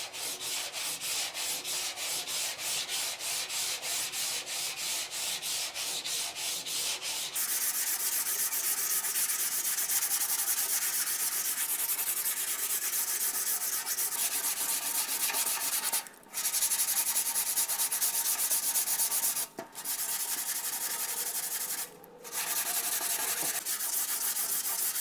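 Sanding block with 120-grit paper rubbing over cured Bondo body filler in steady back-and-forth strokes, rapid and rhythmic at first, then longer smoother passes broken by a few brief pauses, close and alone.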